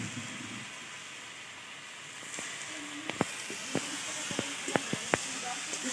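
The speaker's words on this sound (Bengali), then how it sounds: "কিছুক্ষণ মশলার সাথে কষিয়ে নেব" Banana flower frying with spices and cumin powder in a pan gives a steady hiss and sizzle, with sharp little pops and crackles breaking through in the later half.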